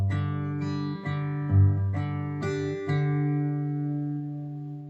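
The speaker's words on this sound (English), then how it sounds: "the G section, the first bar of level 4," Guitar tuned GDAB plays the first bar of a G section, picking low bass notes that move between the G and the open fourth and third strings, each note ringing into the next in a steady, close, unaccompanied line.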